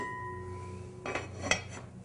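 A lid settles onto a pot of mutter paneer as it comes to a boil, giving a couple of brief metallic clanks against a steady low kitchen hum.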